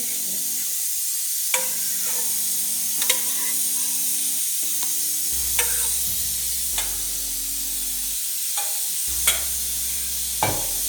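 A spoon scrapes and stirs a pot of tripe soup with a steady sizzle underneath, occasional sharp clinks against the metal; no voices.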